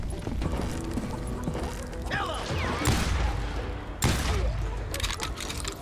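Shotgun blasts in the Western shooter Call of Juarez: Gunslinger ring out as a few sharp, loud bursts over busy game ambience with horse hooves and mechanical clatter.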